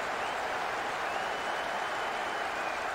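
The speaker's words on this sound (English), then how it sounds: "The capacity crowd are enjoying the goal celebration." Stadium crowd noise from a Tottenham vs Chelsea 90s derby in a football video game, a dense, steady roar of cheering and applause after a goal, loud and continuous throughout with no speech.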